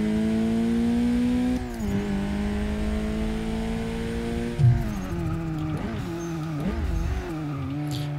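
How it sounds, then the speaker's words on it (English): A Volkswagen R or Audi RS3 hatchback braking hard, its engine note dropping with a brief tire squeal and skid, close and fairly loud with no other sound over it. "I'm really smashing those brakes right now"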